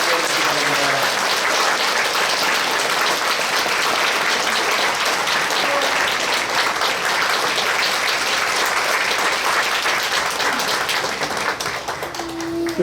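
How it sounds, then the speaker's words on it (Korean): A church congregation claps during a service installing a senior pastor emeritus at Hannam Church: sustained, dense applause from many people, loud and even for over ten seconds before tapering at the end. "박수로 부탁드립니다"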